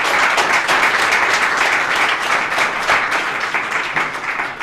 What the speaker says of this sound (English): Big applause for you guys.